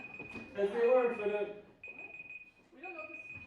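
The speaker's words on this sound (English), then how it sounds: "that's the alarm." Alarm timer beeping with a steady high electronic tone that runs through a live comedy festival set, broken by short gaps, while people talk over it.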